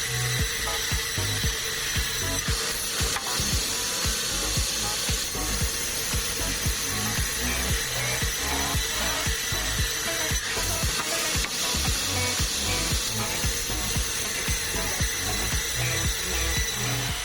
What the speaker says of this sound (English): Every time the wood saw starts cutting, we can feel the power and precision of modern technology.